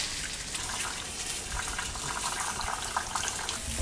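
Mint leaves for a pudina chutney rinsed in a kitchen sink, with a steady gush of running tap water and splashing that continues evenly throughout, close and fairly loud.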